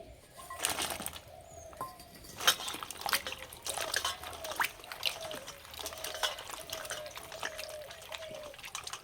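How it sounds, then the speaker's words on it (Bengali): Dried jujube berries are washed by hand in water, giving soft, irregular splashes and drips at close range that are fairly quiet, with some brief sharper sloshes. "কুলগুলো পরিষ্কার করে ধুয়ে নেব।"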